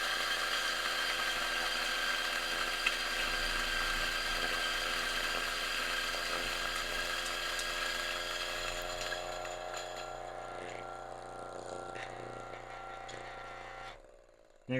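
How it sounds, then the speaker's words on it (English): An electric coffee grinder steadily grinding espresso beans, a continuous close whirring drone that holds for about fourteen seconds and then cuts off abruptly. "You're going to click the grind button"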